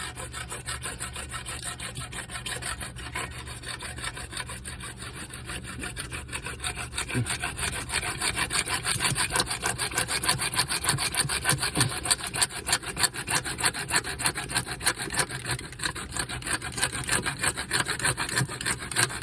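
A pipe for a sump pump fitting being cut with a hand saw: steady back-and-forth rasping strokes, close and rhythmic, growing louder and more vigorous after the first few seconds.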